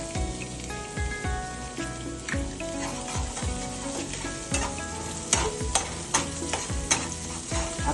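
Garlic, ginger and chillies are stir-fried over a high flame, with a steady crackling sizzle broken by repeated scrapes and clinks of a spatula against the pan.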